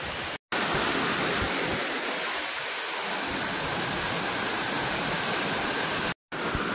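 A loud, steady roar of rushing falling water at Dokrichanchara Waterfall in Kalahandi district, Odisha, constant broadband hiss with no voices, briefly cut off twice.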